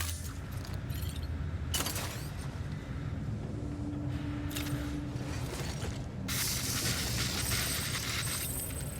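Repair spray hisses onto cargo containers in the video game Death Stranding, in short bursts and a longer steady spray toward the end, over a constant mechanical game background with no talking.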